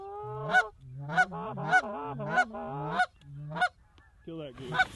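Geese honk repeatedly during a goose and duck hunt, a series of loud, close, nasal calls spaced about every half second, with faint hunters' voices in the background.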